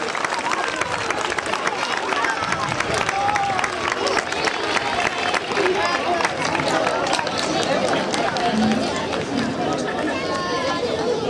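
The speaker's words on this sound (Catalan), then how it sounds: "el rebem amb un fort aplaudiment" An indoor audience at a Jocs Florals event gives a long, loud round of applause welcoming a guest, the dense clapping steady and unbroken throughout, with some crowd chatter mixed in.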